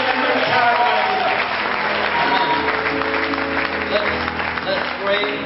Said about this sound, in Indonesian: a round of applause to Jesus as a sign of thanksgiving for His time that He has come here